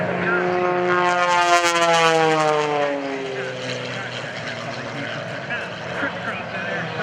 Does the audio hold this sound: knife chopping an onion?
no